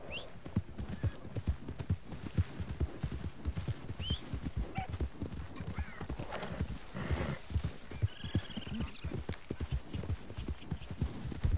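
Horse galloping in Red Dead Redemption 2, a steady rapid clip-clop of hooves close up with harness jingle and an occasional snort or whinny over light ambient noise.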